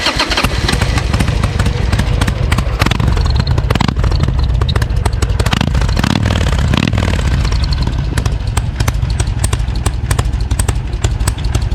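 Rubber-mounted motorcycle running loud and close, a steady rough engine roar with clattering mechanical texture that holds throughout, with no speech over it.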